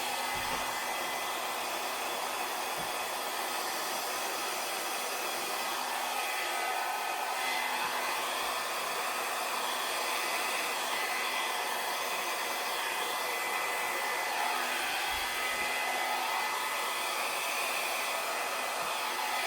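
A hair dryer blows air steadily over the edges of a wet acrylic Dutch paint pour, giving a loud, continuous, unbroken whoosh throughout.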